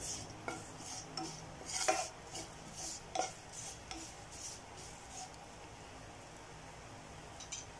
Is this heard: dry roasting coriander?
yes